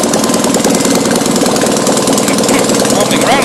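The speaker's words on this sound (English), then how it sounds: "It starts firing, it's not completely firing evenly, because that's why it's wobbling a bit." A small Fiat 652cc engine runs loud and close, firing unevenly with a steady rough chugging throughout, while a voice speaks over it.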